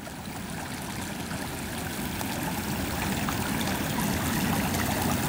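Creek water flowing steadily along a bank, a continuous close rushing and trickling wash that swells slightly louder toward the end, with no voices.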